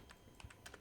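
Soft, quiet clicks of a computer keyboard: about five separate keystrokes in under a second, tapped in an irregular rhythm close by.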